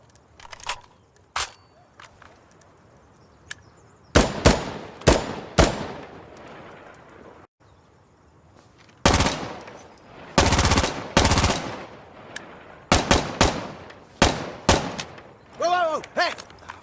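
Weapons in Insurgency Sandstorm fire in sharp single shots and rapid bursts, separated by quieter stretches of metallic magazine-change and reload clicks; loud, close gunfire comes in clusters across the stretch, with brief voice sounds mixed in.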